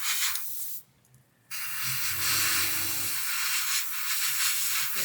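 An airbrush sprays Tamiya LP lacquer paint on an Airfix 1/48 Sea King model kit, a steady close hiss that cuts out for about a second, then resumes continuously over a low mechanical hum.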